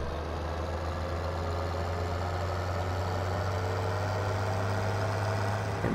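Deutz-Fahr Agrotron TTV 6190 tractor in Farming Simulator 2017 heard from outside, its engine holding a steady low droning hum with a constant rumble throughout, fairly loud and alone.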